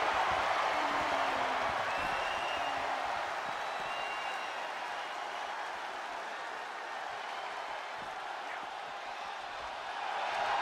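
A video game wrestling arena crowd in a John Cena versus Rey Mysterio cuffin match roars and applauds in a steady, dense wash of cheering that continues throughout, with commentary voices underneath.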